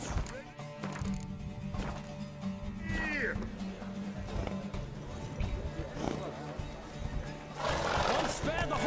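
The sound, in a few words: horses galloping and neighing in a race, from the video game The Witcher 3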